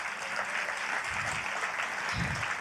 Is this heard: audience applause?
yes